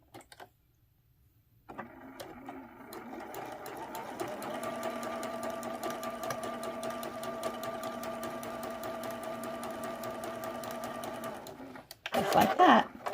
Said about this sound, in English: We're going to go ahead and sew right straight down this binding strip.